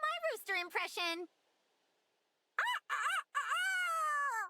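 A voice imitates a rooster crowing, a short burst of rising crow-like calls, then silence, then several more drawn-out crowing cries, close and loud.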